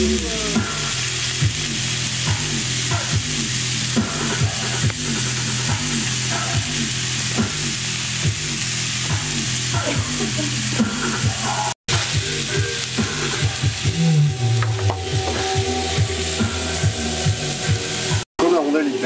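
A cheeseburger patty with bacon and melting cheese sizzles steadily in a hot pan, a loud close frying crackle with rhythmic scraping strokes throughout and a brief pause near the end.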